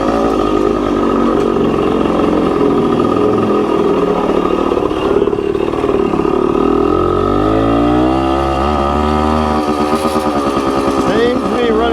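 A Suzuki TC-90 dirt bike engine idling and revving on a wet yard, loud and close with a buzzing two-stroke drone that rises and falls, while someone talks over it.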